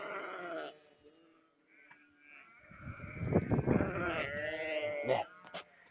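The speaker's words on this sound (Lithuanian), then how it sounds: "Na, kiek avyčių." Several close, loud sheep bleats ring out in a rural setting, wavering and drawn out, with a brief quiet gap and a human voice briefly mixed in among the calls.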